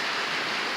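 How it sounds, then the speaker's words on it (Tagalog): Heavy rain pours down in a dense, unbroken hiss of drops striking surfaces, loud and close, with no voices. "talagang ang bagsak ng ulan na yan, grabe ang lalaki."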